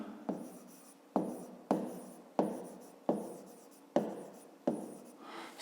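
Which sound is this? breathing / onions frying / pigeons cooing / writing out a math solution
writing out a math solution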